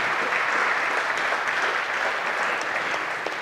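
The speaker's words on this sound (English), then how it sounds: "Give them another round of applause for the entire conference." Steady applause from a conference audience at a hacker camp's lightning talks session, dense and sustained throughout without a break, a full room clapping together.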